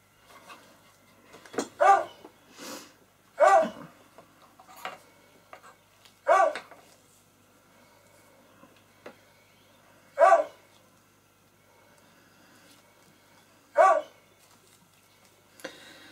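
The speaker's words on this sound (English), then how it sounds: "This dog that's barking at the bottom of the stairs at the moment" A 14-year-old dog barks at the bottom of the stairs indoors, giving sharp single or double barks spaced a few seconds apart, fairly loud and somewhat distant, with quiet between them.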